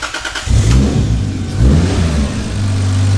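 A turbocharged Toyota Supra engine cranks briefly, then fires and revs up loudly before settling into a steady rumble.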